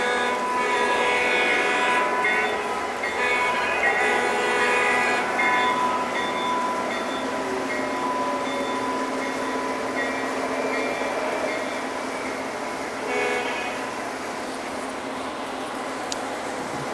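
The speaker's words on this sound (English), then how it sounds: "Here comes the train." A Lionel model train rolls steadily along its track, a continuous mechanical hum and rattle with faint tonal whine from the motor, heard close and even throughout with no talking.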